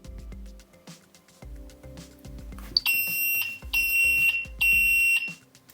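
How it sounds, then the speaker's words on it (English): A Winees Cam F1 360-degree security camera sounding its alarm mode siren: three loud, shrill, pulsing electronic wails in quick succession, following some soft button clicks and handling noise. "I also have an alarm mode. So if I hit this button here,"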